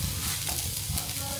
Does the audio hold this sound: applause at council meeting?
no